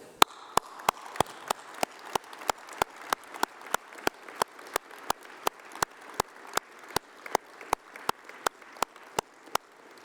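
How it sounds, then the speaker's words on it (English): An audience at a university graduation ceremony claps, heard as a sustained wash of applause through the whole stretch, steady and moderately distant in a large hall, with sharp regular clicks running on top. "let's have a round of applause for all those special people, your family, your friends, your tutors"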